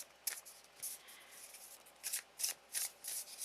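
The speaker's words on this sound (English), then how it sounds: "So we're going to give her a quick shuffle here." A Wild Unknown Tarot deck being shuffled by hand, with quick riffling bursts of card rustle that come in several short clusters, close and fairly quiet, with no voices.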